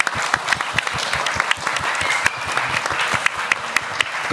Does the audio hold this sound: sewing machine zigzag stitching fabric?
no